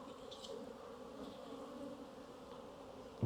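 Honey bees swarm around an opened hive, a steady dense buzzing hum that stays even and close throughout, ending in a sudden loud bump.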